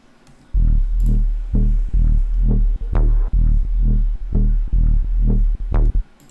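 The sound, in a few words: saturator distortion on bass wub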